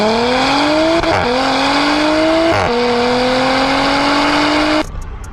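Audi B9 all-wheel-drive car with an 034Motorsport TCU tune accelerating hard at full throttle, its loud engine note rising steadily and dropping abruptly at two forceful gearshifts, then easing off near the end.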